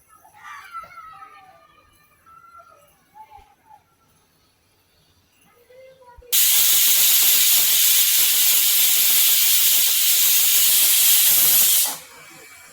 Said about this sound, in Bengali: হ্যালো ভিউয়ার্স, আমার 2টো সিটি হয়ে গেছে।